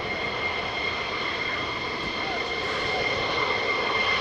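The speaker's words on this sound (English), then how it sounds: "an old aeroplane that started life in the 1980s" A 1980s-era military jet aircraft at RAF Lakenheath runs with a steady, loud, broadband engine roar and whine that holds constant throughout, heard from some distance with no pauses.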